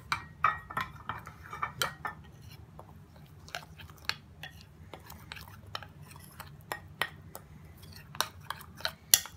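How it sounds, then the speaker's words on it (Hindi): Soft scraping and clinking of a spoon stirring cornflour paste in a bowl, irregular taps over a low background hum, close and fairly quiet. "हम इसमें डालेंगे और इसे मिक्स कर देंगे"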